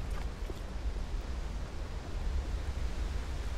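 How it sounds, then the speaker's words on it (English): Steady broadband rush of a waterfall in Tomb Raider: Anniversary, a continuous even roar with strong low rumble and no clear breaks, heard alone without talk. "Waterfall. That must hold a secret."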